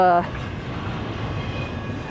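A freight train passes through Kingman, Arizona, a steady low rumble and rolling rail noise heard from some distance, continuing without pause after a brief horn-like tone at the start.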